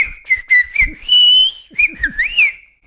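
Silbo whistled language of Gran Canaria, a sequence of loud, piercing whistled phrases with rising and falling glides, delivered in short separated bursts and then a longer sustained tone, with faint low thumps between them.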